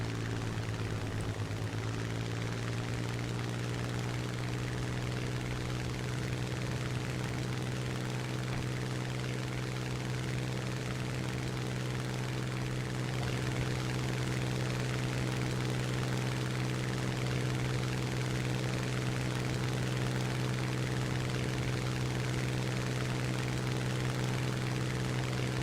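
Supermarine Spitfire Mk IIa piston engine from the War Thunder game, a steady loud drone with a deep harmonic hum that holds throughout, unbroken and close, with no voices.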